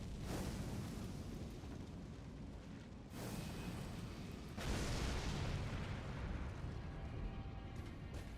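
A giant explosion in a video game, heard as a sustained, rumbling roar that swells in two surges and fills the whole clip at low volume.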